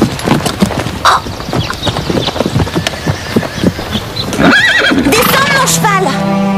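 A horse neighs in a riding scene from a French animated series, the whinny coming late and loud with rising and falling tones after stretches of hoofbeats and voices.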